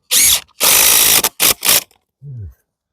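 Power drill driving screws into a wooden treehouse platform: loud close whirring bursts, a long one followed by two short ones, then a brief falling tone as the motor stops.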